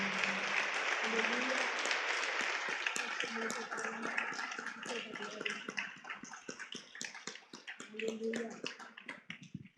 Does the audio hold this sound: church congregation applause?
yes